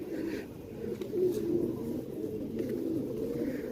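Pigeons coo steadily in a low, rolling murmur, close and continuous, with several birds overlapping.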